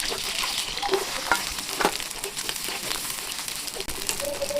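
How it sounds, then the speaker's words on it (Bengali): Black cumin seeds frying in oil over a low flame while being stirred, a continuous soft sizzle and crackle with scraping stir noises and occasional louder pops. "এর জন্য লো ফ্লেমে রেখে কালো জিরাটাকে ভাজতে হবে"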